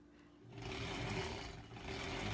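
A sewing machine runs along the first seam of a granny squares quilt block. It starts up after a brief quiet moment and keeps a steady whir at low volume.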